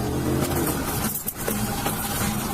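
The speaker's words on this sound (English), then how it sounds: "The suspect suddenly accelerated, driving at a crazy speed, disregarding the danger on the crowded road" A car speeding away from police during a high-speed chase on a crowded road, its engine a steady mid-range roar with a brief dip partway through, heard close and without voices.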